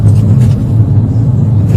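A fleeing car drives at speed during a police chase after speeding, giving a loud, continuous low rumble of engine and road noise with no break.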